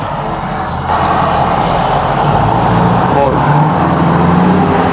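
A 6.4L Powerstroke diesel pickup fitted with a large aftermarket fuel pump accelerates hard, a loud, steady engine roar that swells after a brief dip near the start and holds strong to the end, with no talk over it.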